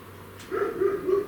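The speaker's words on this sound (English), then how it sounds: "excuse the dog" A dog gives a short, muffled whining bark followed by a drawn-out whimpering yelp, somewhat distant inside a quiet room, with no talking.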